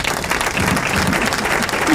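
Brief applause breaks out on a business radio program as a spa proprietor is introduced, a short burst of clapping with a few voices murmuring underneath.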